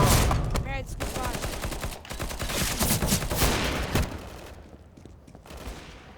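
Rapid bursts of CS:GO gunfire crackle densely for several seconds, with shots and ricochet-like zips, then fade out.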